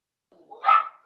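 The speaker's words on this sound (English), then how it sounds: "Jamel, pardon my dogs in the background" A single dog bark or yip in the background during a press conference, short and moderately distant, rising from a faint whimper-like start.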